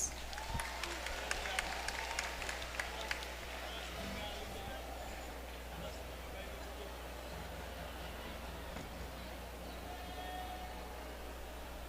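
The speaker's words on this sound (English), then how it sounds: "Let's give our graduates and completers of Class 2022 a big round of applause." Applause for Class 2022 graduates at a commencement ceremony, a faint, steady wash of many hands clapping from a distant crowd, with a few crisper claps near the start and a low hum underneath.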